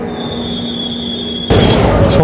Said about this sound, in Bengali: নির্ধারিত সময় থেকে 30 মিনিট লেটে আমাদের ট্রেন কিন্তু ছেড়ে দিল হাওড়া থেকে ভুবনেশ্বরের উদ্দেশ্যে